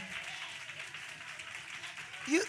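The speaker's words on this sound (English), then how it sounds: "Y'all ought to clap for that." Audience applause at a community outreach session, a steady wash of clapping from a crowd, fairly faint and continuous, with a voice briefly rising near the end.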